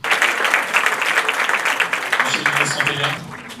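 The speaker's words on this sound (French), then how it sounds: "Ces applaudissements marquent donc le clap de fin." Dense, steady applause from an audience at a Paris press conference for a new book, loud and continuous, easing slightly at the very end, with some voices mixed in.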